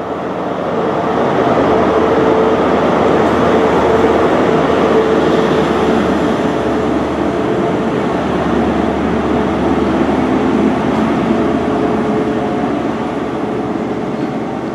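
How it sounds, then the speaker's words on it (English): Network Rail's Flying Banana measurement train, a yellow high-speed set with power cars 43062 and 43013, rushes past in a loud, steady roar of wheels and engines held for the whole stretch, close by and without talk. "There's Network Rail's Flying Banana, the new measurement train."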